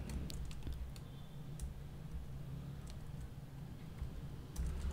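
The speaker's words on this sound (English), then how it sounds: "So we will type." Keys tapped on a computer keyboard while entering text to preview a web font, a steady run of light clicks over a low background hum.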